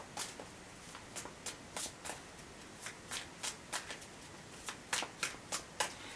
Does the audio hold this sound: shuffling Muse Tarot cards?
yes